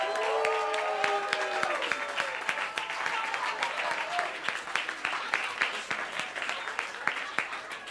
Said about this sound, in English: let's have one special round of applause for George Garzone